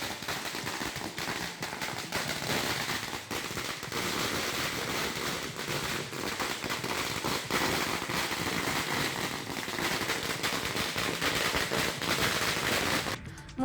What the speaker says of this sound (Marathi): अंधेरी पश्चिमेला मनसे पदाधिकाऱ्यांनी फटाके फोडत जल्लोष केलाय.